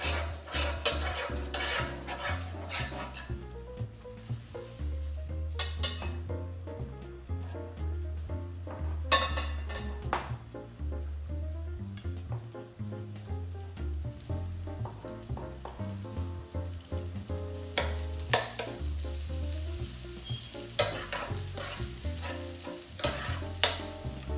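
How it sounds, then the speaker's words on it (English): Vegetables sauté in olive oil in a pan: a continuous sizzle runs throughout, punctuated by frequent clattering and scraping of a utensil tossing and stirring them, close and busy with no talking. "So what we're gonna do is we're gonna saute our vegetables. Put a little bit of this olive oil in the pan."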